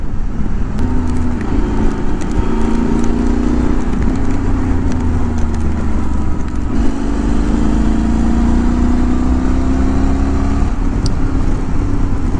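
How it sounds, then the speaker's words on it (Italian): BMW GS motorcycle engine droning steadily while riding in an open lakeside area, a continuous mid-pitched hum with wind rush, loud and close throughout with no voices. "si sente subito quando c'è il rumore del GS"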